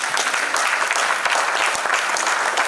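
Loud, dense crowd applause at a Town Planners Day gathering, a continuous wash of many hands clapping throughout.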